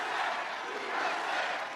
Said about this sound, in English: Watch the crowd. Listen to the crowd.